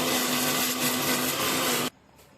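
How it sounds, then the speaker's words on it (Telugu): A mixer grinder blends boiled onion with cumin into a paste, a loud steady whirring drone that runs close for almost two seconds before it cuts off sharply into near silence. "దాంట్లో కొంచెం జీలకర్ర వేసి మిక్సీ పట్టుకోవాలి."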